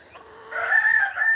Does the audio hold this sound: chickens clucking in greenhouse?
yes